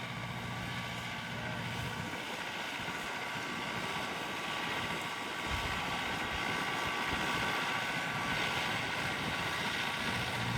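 A Millat MT390 4x4 tractor pulls a 24-disc harrow through slightly damp field soil, its engine droning steadily at a moderate distance, joined by a low mechanical rumble and clatter.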